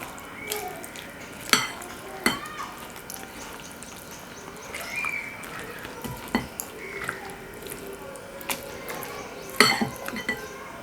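A spatula scrapes and clatters against a pan while mixing cooked potatoes and onions for a Spanish omelette, with soft scraping and several sharp metallic knocks spaced across the stretch, close and fairly quiet.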